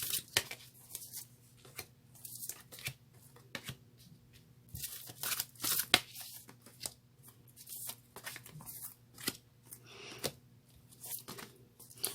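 A deck of tarot cards is shuffled by hand in a quiet room, with a long run of crisp papery riffles and slaps that come in irregular bursts, close and fairly soft, with no talking.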